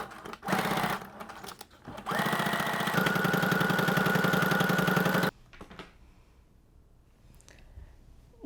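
A sewing machine runs in loud steady bursts while top stitching the fabric of a BAGGU-style bowler bag, with a short run, a pause, then a long continuous stretch before it stops and faint handling noises follow.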